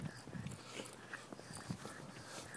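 A dog moving around nearby and whimpering, with soft scuffles, faint whines and low rustling noises at low volume.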